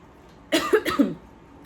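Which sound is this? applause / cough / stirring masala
cough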